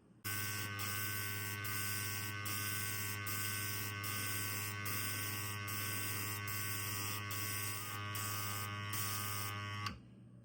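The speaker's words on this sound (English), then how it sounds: "Not bad for an inexpensive airbrush." An inexpensive beginner airbrush sprays black paint with a steady, close hiss over a strong constant hum, punctuated by regular brief dips as the trigger pulses, ending abruptly near the end.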